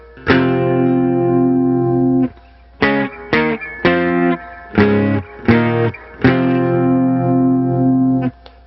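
Distorted electric guitar power chords with the sixth string added for a deeper sound, played as long sustained strums and a series of short choppy stabs, loud and close.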